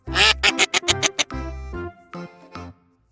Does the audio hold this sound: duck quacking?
yes